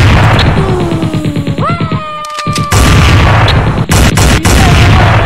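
Booming blasts and crashing gunfire from the Chicken Gun video game pound loudly alongside whooshing, rising tonal effects, with a brief near-silent gap before heavy impacts resume.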